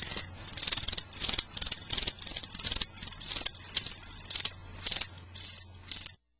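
A radio ad sound effect of crickets: loud, close chirping in rapid pulsing bursts with no talk, thinning to a few spaced chirps before cutting off.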